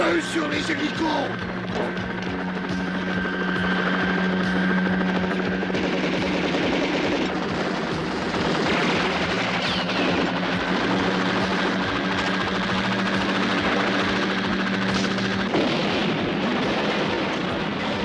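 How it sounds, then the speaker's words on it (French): Military helicopters roar through a film battle scene amid heavy, continuous gunfire and explosions, forming a loud, dense wall of noise with shouting voices throughout. "Feu sur les hélicos!"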